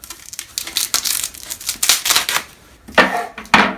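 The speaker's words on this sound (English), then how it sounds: "Let's use the trusty knife just to be sure." Knife slicing through a thin plastic sleeve around a boxed Cooler Master CM Storm Quickfire XT mechanical keyboard: a run of short crinkling, scratching cuts and rustles, close and alone.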